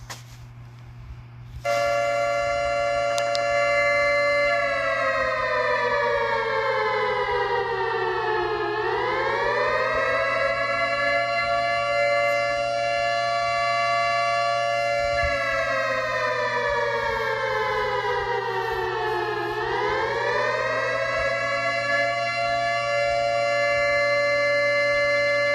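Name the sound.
nuclear alarm civil defense siren test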